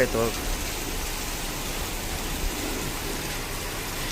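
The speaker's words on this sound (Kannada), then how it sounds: "ಮಳೆ ಮಾತ್ರ ಬಿಟ್ಟು ಬಿಡ್ದಂಗೆ ಹೊಡಿತಾ ಕುಂತು" Heavy rain pours down steadily in Goa, a dense, even hiss of water that fills the whole scene from start to finish with no pauses.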